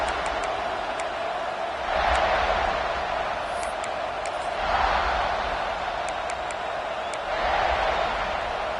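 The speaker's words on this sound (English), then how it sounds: "This crowd ready to make its presence known." Stadium crowd noise from the College Football 26 video game forms a steady roar that swells in three waves, with faint cheers rising above it, while a commentator talks over it.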